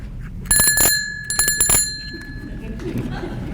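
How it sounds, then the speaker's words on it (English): A hand bell is rung as a 30-second time warning at a public engagement meeting in Valemount, BC: two quick bursts of bright metallic ringing in a room, followed by a low murmur of people. "When 30 seconds remain for the application presentation, I'm going to ring this bell."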